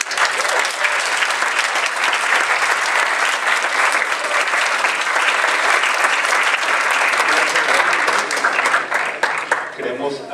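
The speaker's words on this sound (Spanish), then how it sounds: "Demos un fuerte aplauso otra vez" Loud, sustained audience applause after an engineering conference talk, dense clapping filling the room for about ten seconds before tapering off at the end, with voices mixed in beneath.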